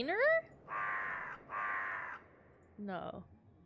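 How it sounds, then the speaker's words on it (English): A crow caws in a short series: one call, then two longer harsh caws close together, and another call near the end, loud and close against a quiet background. "Bird."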